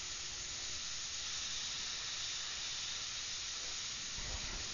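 An airbrush sprays paint onto the face of a cybergirl artwork, a steady close hiss of air that holds unbroken from start to finish.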